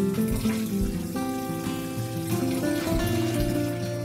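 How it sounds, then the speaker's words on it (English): Malt extract is stirred vigorously into beer wort from a brew kit, a continuous close sloshing and swirling of liquid with splashy churning and foam, no talk heard. "This is why I stir so vigorously"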